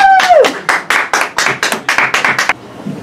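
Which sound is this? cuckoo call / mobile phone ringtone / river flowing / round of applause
round of applause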